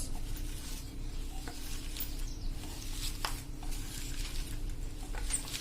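Chopped onion and colocasia leaves being mixed with batter for bhajiya make a soft, continuous wet squishing and patter, close and steady throughout.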